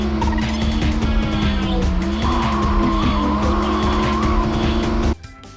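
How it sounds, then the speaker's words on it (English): Loud, continuous tyre screeching and engine drone from the PlayStation racing video game Test Drive 4, sustained for about five seconds before cutting off abruptly. "The engine and general car sound effects are pretty good, although the tyre screeches do sound notably horrible."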